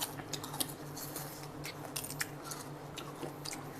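Close, wet chewing of fresh sweet shrimp, with soft squishy bites and small crunches repeating in an uneven rhythm, heard near the mouth with a faint room hum beneath.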